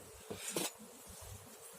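Honeybees buzzing softly during a hive inspection, while the colony on five frames is checked for expansion with new foundation; a faint, steady hum with a brief louder swell near the hive.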